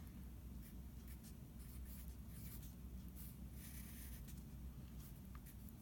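Pen or marker writing out a division problem, faint continuous scratchy strokes over a steady background hum.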